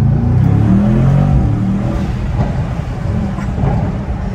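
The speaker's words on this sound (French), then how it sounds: "Quand tu lâches, on entend le sifflement du turbo." A Mercedes-AMG GT63S accelerates hard under launch control, heard from inside as a loud, steady engine roar and rumble that eases slightly partway through.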